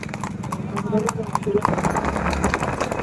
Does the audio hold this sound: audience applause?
no